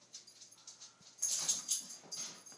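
Two dogs, one of them big, wrestling together nearby, with soft whimpers, yips and breathy growls coming in short uneven bursts, louder in the second half, with no talking.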